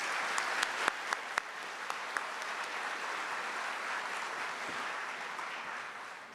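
Audience applause at a college commencement ceremony, a sustained even crowd clapping with a few sharp, distinct nearby claps standing out early on, continuing steadily to the end.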